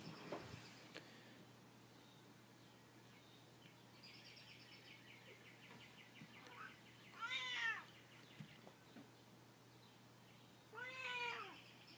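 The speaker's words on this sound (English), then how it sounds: "Apparently I have an extremely impatient cat for watching fan videos." A domestic cat meows twice, fairly faint, a few seconds apart, over the steady low hum of a running Kenmore Roll-O-Matic box fan.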